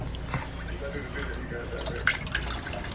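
Tap water runs and splashes while hair is being wet, a steady close trickle with drips, and a person talks over it.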